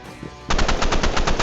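Gunfire in a video game, a quiet moment broken by a sudden rapid burst of close, loud machine-gun shots in even rhythm.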